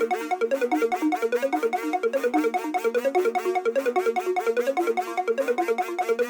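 A stack of basic software synths, one from Serum, playing together as a fast, bouncy pluck melody with quick pulsing notes in a steady groove, moderately loud and thin in the low end, with no speech.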